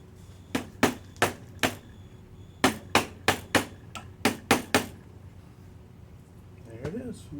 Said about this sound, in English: he's going to hammer in this wire with that.